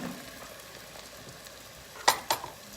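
Butternut squash going into a pan of frying garlic, rosemary, bay leaf and oregano, with a soft steady sizzle broken by two sharp, loud bursts of sizzling as the pieces land.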